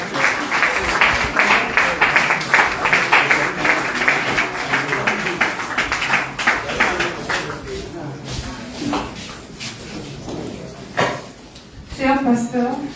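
Sustained applause and cheering from a church congregation at a pastor's jubilee, greeting a young woman called up to recite a poem, loud at first and fading, with voices rising near the end.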